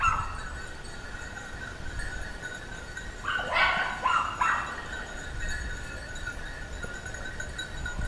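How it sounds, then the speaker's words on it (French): Hunting dogs arriving with beaters during a wild boar hunt give a short cluster of barks and yips at moderate distance in the middle of an otherwise quiet outdoor scene. "ils ont dû entendre les chiens arriver avec les traqueurs"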